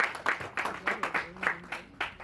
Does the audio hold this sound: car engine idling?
no